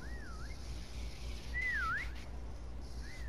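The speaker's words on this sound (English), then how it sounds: "Whistle? You hear it?" In a Call of Duty: Black Ops Cold War prop hunt match, a hidden prop gives off short rising-and-falling whistles, three in a row spaced apart, heard faintly over quiet game ambience.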